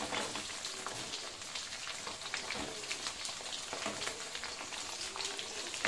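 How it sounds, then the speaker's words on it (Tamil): Small shallots sautéing in hot oil with dried chillies, garlic and ginger, giving a faint, even, continuous crackle of frying close by with no talk. "நல்லா எண்ணெயில் போட்டு வதக்கிக்கிட்டு இருக்காங்க"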